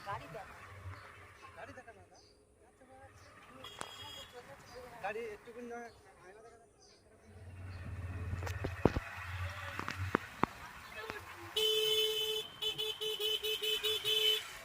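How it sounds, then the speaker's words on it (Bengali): Road traffic crawls across a busy bridge, with passing engine rumbles and a burst of repeated car horns honking close by, while people talk over the noise. "আসলে ব্রিজে প্রচুর গাড়ি ঘোড়া ওই জন্য একটু আস্তে আস্তে গাড়ি চালাচ্ছি"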